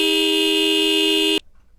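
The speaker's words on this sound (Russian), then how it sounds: "Hoot – сигналить." A horn gives one steady, unbroken blast for well over a second and then cuts off sharply. The tone is loud and sounds on its own.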